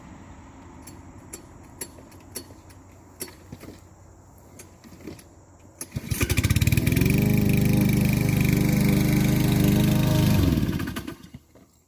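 A lawn mower engine on a farm starts after a stretch of faint background clicks and runs loud and steady for about five seconds before cutting off.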